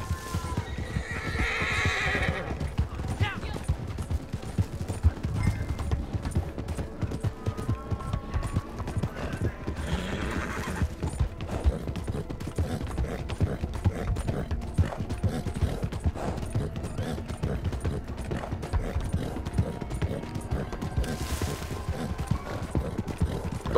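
Horse in the Red Dead Online video game galloping with rapid clip-clop hoofbeats throughout while neighing and whinnying in loud bursts, over steady in-game ambience with faint mechanical sounds.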